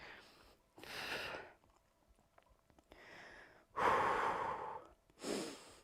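Heavy workout breathing, a series of loud close exhales and sharp inhales in irregular bursts with short quiet gaps, the strongest puff near the end.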